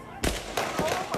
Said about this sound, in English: Gunfire outside a popular bar in Austin, Texas this weekend